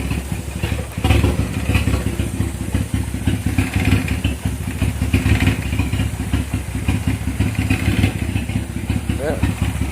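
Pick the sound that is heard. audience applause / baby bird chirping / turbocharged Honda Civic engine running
turbocharged Honda Civic engine running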